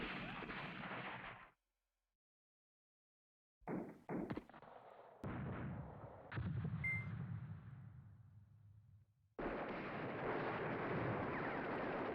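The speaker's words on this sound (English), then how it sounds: "why did I bother giving an artillery fire mission over there?" Artillery fire in the wartime strategy game Command Ops 2, Poland 1939 defense of the Beskid Mountains: bursts of booming rumble broken by a silent gap, a few sharp cracks, then a sustained loud barrage, no talk.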